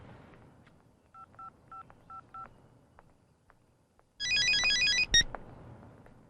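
A telephone is dialed with a short run of evenly spaced keypad tones, then after a pause a loud electronic ringtone trills for about a second, close and alone in a quiet room.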